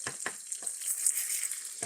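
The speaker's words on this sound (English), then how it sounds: "I'm frying the eggs" Five pasture-raised eggs fry in leftover bacon grease, a steady close sizzle broken by a few sharp taps and scrapes of a utensil against the pan.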